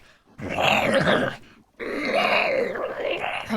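Two long, rough, guttural growls sound close and loud as a tabletop game sound effect for something approaching, each lasting over a second and separated by a short pause.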